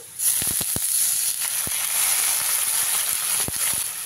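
Fried onions in a hot pan hiss and sizzle loudly as water is poured in, a steady broad crackling with scattered sharp pops close by.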